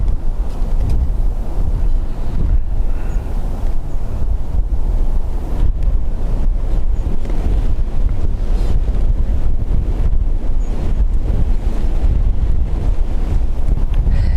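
Strong gusting wind buffets the microphone at Dublin Airport, a loud continuous roar and rumble lasting the whole stretch with no talking.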